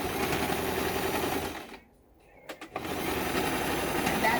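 A home sewing machine stitches fabric for a DIY face mask, sewing across a pin where the stretchy ear band sits. Its steady motor whir runs loud and close, breaks off into near silence for a moment, then resumes after a couple of short clicks.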